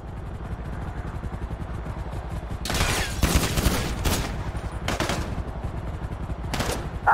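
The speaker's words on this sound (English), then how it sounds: "There's guys shooting at you, Mikey!" Gunfire from a mission shootout in the GTA V video game, several loud bursts of shots over a steady rumbling engine bed, with gaps between volleys.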